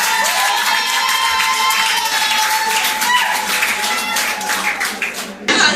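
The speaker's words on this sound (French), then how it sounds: "applaudissez très très fort pour ce beau" Guests at a civil wedding clap and cheer loudly in a dense, continuous burst of applause with scattered shouts, close and energetic, cutting off sharply near the end.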